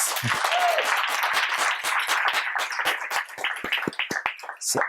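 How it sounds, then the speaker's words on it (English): Audience applause at a school district career pathways grant event, steady close clapping from a gathered crowd that breaks into sparser, distinct claps as it winds down. "Let's give another round of applause."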